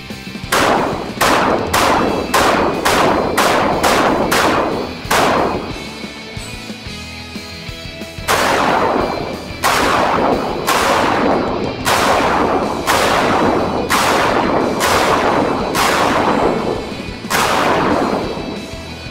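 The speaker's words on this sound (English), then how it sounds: "And we're gonna shoot from inside the pocket." Handgun fired from inside a jacket pocket with the left hand, about fifteen loud, sharp shots in two quick strings separated by a brief pause, each report close and punchy, no talking.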